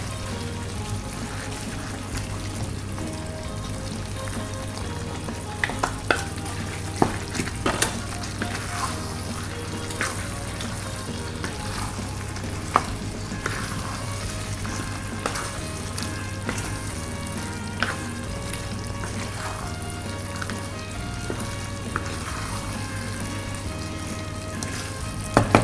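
Pork menudo with cheese simmers and fries in a pan, giving a steady bubbling sizzle with a low hum beneath. A utensil scrapes and clicks against the pan now and then as the dish is stirred.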